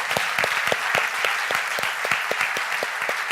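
An auditorium audience claps steadily at a magazine launch presentation, many hands giving dense, sustained applause with sharp individual claps standing out close by.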